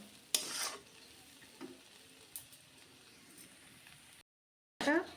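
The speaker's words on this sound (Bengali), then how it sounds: "ডালটা আর একটু ভাজা হবে, আর একটু ভাজা হওয়ার পরে নামিয়ে নেব।" Dry lentils frying in a pan, heard as short scraping, sizzling bursts of stirring separated by quieter stretches and a brief silent gap.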